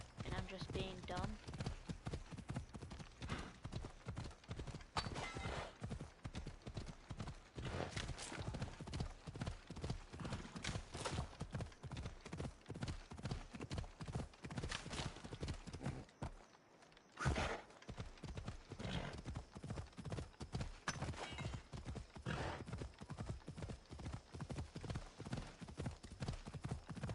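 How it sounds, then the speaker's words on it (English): Galloping horse hooves from a PS4 video game pound in a steady, fast clip-clop rhythm across the whole stretch, loud and close, with a brief gap partway through and someone talking over them. "An X to make your horse go faster."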